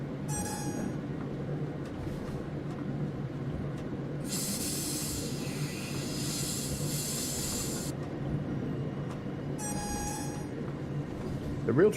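A diesel-hydraulic train runs in Train Sim World 3 on a rainy day, giving a steady low rumble with bursts of loud hissing spray, while a voice talks over it.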